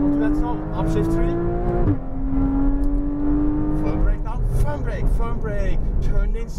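A Porsche Cayman GTS on a racing circuit, its engine droning loud and near as it pulls hard, with a brief dip at an upshift before revving climbs again, while an instructor talks over it.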